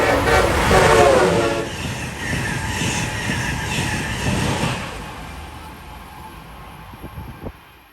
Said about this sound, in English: the first Amtrak Acelas train we've ever seen comes flying in at 125 miles an hour